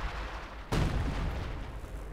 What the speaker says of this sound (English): We got the howitzer firing again.